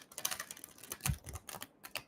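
Tarot cards shuffled by hand during a reading, a rapid run of soft papery riffles and slaps, close and fairly quiet with a few brief thumps, no talking.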